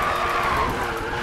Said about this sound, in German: Oh nein, die Handbremse blöd gezogen